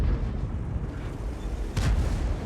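A World of Tanks tank fires and the shell explodes, a sharp loud blast near the end over a steady low engine rumble, alone without talk.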